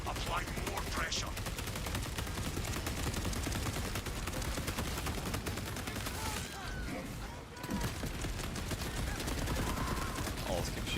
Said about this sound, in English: I'll just keep shooting my gun.